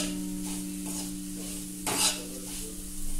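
Ingredients for almond sheera roast in a pan, giving a soft sizzle under repeated scraping stirs and one sharper clatter of the spoon against the pan.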